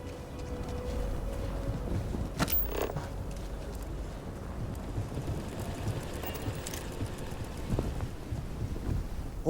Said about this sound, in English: We do have a storm going over where I'm at